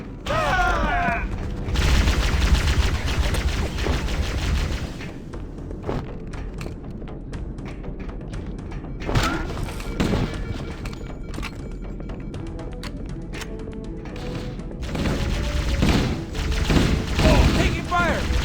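Gunfire and explosions in the video game Halo: Combat Evolved, a dense and steady stream of shots, thuds and booms that carries on through the clip, with a voice calling out near the end.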